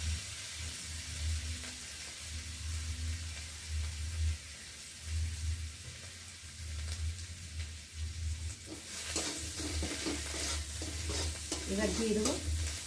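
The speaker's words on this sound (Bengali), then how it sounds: "এবার দিয়ে দেবো আদা বাটা আর রসুন বাটা। ভালো করে লাল লাল করে ভেজে নেব।" Ginger and garlic paste frying in a pan, a soft sizzle under steady rhythmic stirring scrapes, turning into a brighter, louder hiss near the end, close and without talk.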